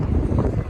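Strong wind gusts buffet the microphone near Tsutenkaku Tower in Osaka, Japan. A loud, continuous low rumble holds without pause through the short moment.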